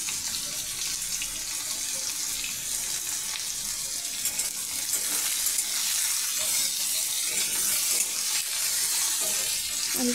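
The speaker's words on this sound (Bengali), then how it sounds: "আলুটাকে ভালো করে নাড়াচাড়া করে ভেজে ভালো করে" Potato pieces sizzle and hiss steadily in a hot pan while being stirred, a continuous close frying noise with occasional scrapes and no talking.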